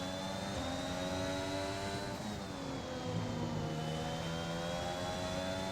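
A Formula 1 race car engine in the F1 2021 racing game, pushed hard on the last lap, giving a continuous high-pitched whine that sweeps slightly up and down.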